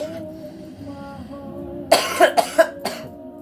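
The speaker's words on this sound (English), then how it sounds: "Well, it's a weed cough." Over a quiet low hum, a person lets out a burst of several harsh cannabis-smoking coughs in quick succession, close and loud.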